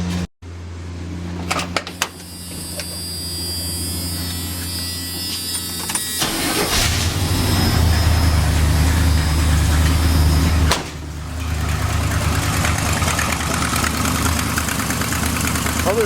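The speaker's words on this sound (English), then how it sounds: "I'm gonna fire this up and let her run some more." A big-block engine in a Chevrolet squarebody truck cranks and catches, then settles into a loud, steady rumbling idle with a deep low throb and exhaust leaks that runs to the end.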